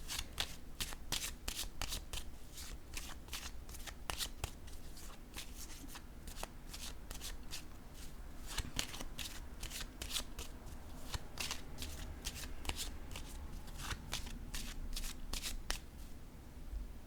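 Oracle cards being shuffled by hand, a steady stream of crisp riffling flutters and soft slaps that runs close and continuous throughout, with no talking.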